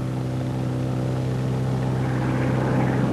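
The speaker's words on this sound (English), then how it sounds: "we unfeather the dead engine." A Douglas A-20 Havoc engine spins up after its propeller is unfeathered, a loud, steady droning roar with a low harmonic hum that gains a little intensity toward the end.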